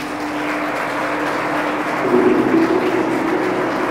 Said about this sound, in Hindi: प्लीज़ तालियां बजाएं।